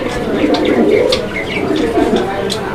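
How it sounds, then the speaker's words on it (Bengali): Male high flyer pigeon cooing at close range, its low calls mixed with someone speaking Bengali and faint chirps throughout. "দেখেন নরের ডাকটা দেখেন কি ডাকে দেখেন"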